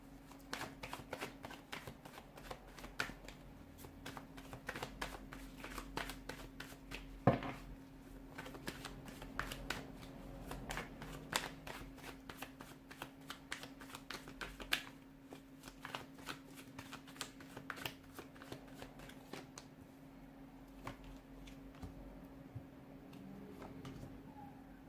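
Tarot cards are shuffled close up in quick, repeated bursts of papery riffling and tapping that run for the whole stretch over a faint steady hum, with no voices.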